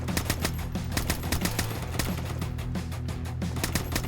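Rapid automatic gunfire and repeated shots crackle through a Siphon Filter–style video game firefight, dense and sustained over a rumbling low soundtrack, with no voices.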